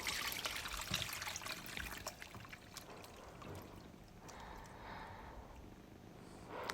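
Soaked bread rusks for kvass being strained, with water trickling and splashing close by, strongest in the first seconds and then thinning to softer dribbles and drips; no voices.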